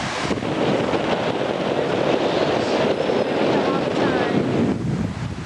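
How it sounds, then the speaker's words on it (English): Strong gusting wind at a beach buffets the microphone continuously, a loud roaring rush with faint surf noise underneath. "it's pretty windy, so there's going to be a lot of wind."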